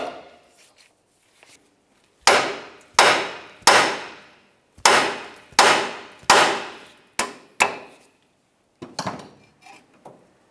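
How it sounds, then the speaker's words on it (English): A series of sharp metallic hammer blows along a 2000-2006 Chevy Tahoe front steering knuckle, about ten strikes in an uneven rhythm, each ringing briefly before the next, loud and close. "we'll continue on with a hammer along the knuckle to try to cause some vibration and break it free"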